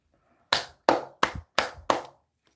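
One person claps hands five times in a steady rhythm, each clap sharp, close and distinct against near silence, a lone ovation during a livestream snack review of chocolate cream bread and pudding.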